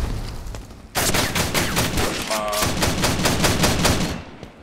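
Rapid automatic gunfire in the video game Pixel Strike 3D bursts in after a quiet second and hammers on in a fast, even rhythm. It is loud and close, with a short electronic beep partway through.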